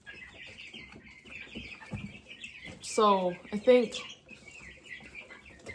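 Young chicks cheep and chirp in a steady high twittering throughout, with a couple of louder clucking calls in the middle, close by, while a person speaks briefly.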